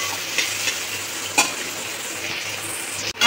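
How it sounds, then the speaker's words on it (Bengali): Onions fry in oil in a wok, giving a constant close sizzle with a couple of light scraping strokes and a brief utensil knock near the end. "পেঁয়াজটা লাল লাল করে ভেজে নেবো।"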